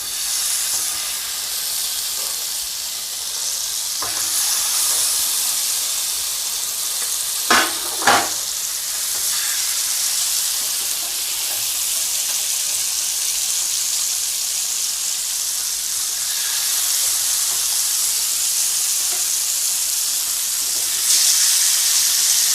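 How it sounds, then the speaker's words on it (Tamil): Sheela fish fries in oil on a tawa with a loud, continuous sizzling hiss that stays steady throughout, broken by a couple of brief clinks near the middle, with no talk. "இப்போ தவாவில் எண்ணெய் ஊற்றியாச்சு. இப்போ நம்ம மீன் சேர்த்துக்கலாம்."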